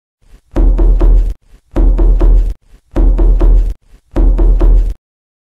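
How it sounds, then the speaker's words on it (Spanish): Four evenly spaced bursts of knocking on a door, loud and close, each a quick cluster of raps separated by short pauses, with no talk. "alguien toca la puerta"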